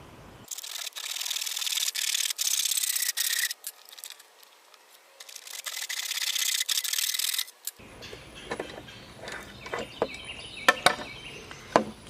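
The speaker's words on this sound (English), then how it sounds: "I'm going to cut halfway through this and then flip it around." A clamped lid is cut by hand in a series of rasping sawing strokes in two sustained bursts, followed by quieter clicks, knocks and handling sounds close by.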